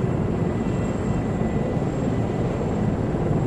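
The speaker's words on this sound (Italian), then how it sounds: "sto cercando di abbassare i suoni dell'elicottero" A steady, loud rotor and turbine drone from an Apache helicopter in a combat video game, continuous and unbroken from a cockpit perspective, with no talk.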